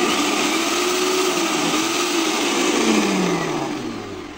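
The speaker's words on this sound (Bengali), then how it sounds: "এটা 1200 ওয়াট ব্লেন্ডার, অনেক বেশি।" A Kiam Turbo 1200-watt kitchen blender runs close and loud with a continuous high whirring motor whine, its pitch sliding slightly, then easing off toward the end, with no talking.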